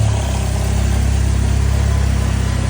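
A Toyota Vios XLE radiator fan motor runs steadily and loudly at close range, a continuous whirring hum with a low droning tone that holds without change.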